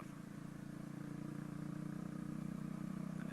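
A Honda Verza 150 motorcycle cruises through a city in the morning, heard from the saddle as a steady engine drone with a low, even pulse. The tone rises a little as the ride goes on, and no voices come through.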